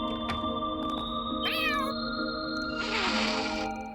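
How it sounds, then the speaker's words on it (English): In the Trails Through Daybreak video game, a cat gives a couple of clear, drawn-out meows, one near the middle and a longer, louder one toward the end, over soft background game music. "I see a cat every now and then."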